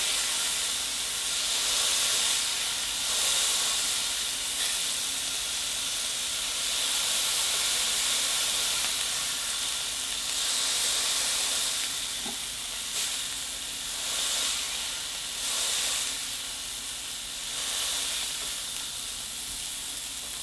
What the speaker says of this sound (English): So we're going to go ahead and smash that burger.